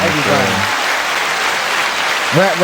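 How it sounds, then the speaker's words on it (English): Studio applause for a rapper on a podcast, a steady wash of clapping running through the clip while a voice speaks briefly at the start and again near the end. "Give him a round of applause,"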